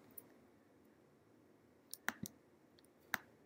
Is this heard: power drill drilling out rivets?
no